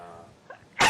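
A single loud, close sneeze bursts out near the end, following a stretch of faint room murmur during a public historic landmarks commission meeting.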